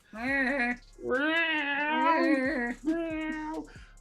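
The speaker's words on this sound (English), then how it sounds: "It was the owner's cat that they recorded during mating season." Recorded cat yowling from the mating season, played back as an alarm: three long, drawn-out, wavering meows in a row, loud and close, with short gaps between them.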